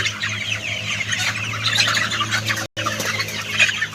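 Chickens cluck and squawk in a dense crowd on a poultry farm, a constant overlapping chatter of many birds close by with a brief cutout near the end.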